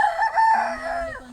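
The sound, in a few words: roosters crowing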